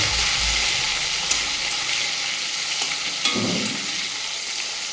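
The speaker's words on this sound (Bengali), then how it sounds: "ভালো করে ভেজে নেব।" Cumin, bay leaf, soaked cashews and raisins fry in oil in a pan, a close, continuous sizzle broken by a couple of sharp stirring clicks.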